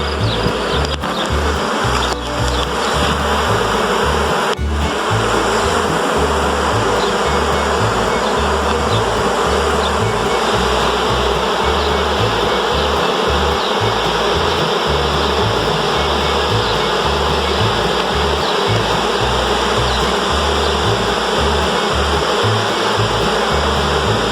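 A honey bee swarm hums in a dense, continuous buzz that stays loud and steady throughout, close by and unbroken, with no voices.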